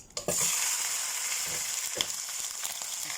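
Chicken sizzling and frying in a little oil in a pot, a steady close hiss with a few sharp pops and crackles throughout.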